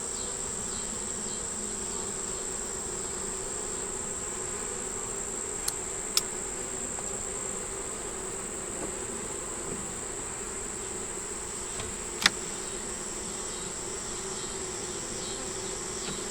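Honey bees buzz steadily around a beehive, a continuous close insect drone with a few faint clicks from the hive work and no talking.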